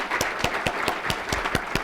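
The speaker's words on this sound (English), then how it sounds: "Let's give these folks a round of applause." Rhythmic clapping at a press conference, a few sharp claps in an even beat, close and distinct rather than a full crowd roar.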